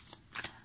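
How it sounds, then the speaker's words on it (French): Oracle cards shuffled close up during a card reading, a quick burst of soft papery riffles lasting under a second. "je vais vous prendre quelques cartes conseils pour vous"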